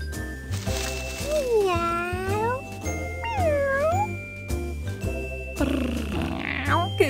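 Several cat meows with rising and falling pitch, set against bright chimes and playful music, loud and close.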